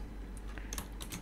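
Quiet computer keyboard typing while entering Python code: soft, irregular keystroke clicks in small clusters, close and faint, with no talking.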